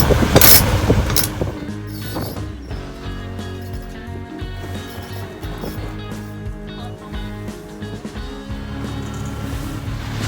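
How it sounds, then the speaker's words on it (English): A sailboat's engine runs at sea while the sail is up, a steady low mechanical drone with tonal hum under wind and water noise, and a louder knocking burst near the start. "went downstairs to shut off the engine"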